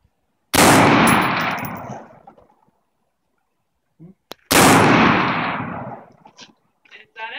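Two loud, close gunshots ring out on a shooting range, the first near the start and the second about four seconds later, each with a long decaying echo; faint voices are heard between them.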